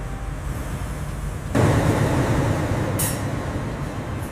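A train rumbles steadily, then the sound abruptly swells louder and denser as it roars through the Channel Tunnel, with a brief hiss partway through.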